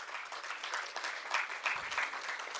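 An audience at a college science and mathematics day event claps to welcome the chief guest, with brief, steady, moderately loud applause from a crowded hall.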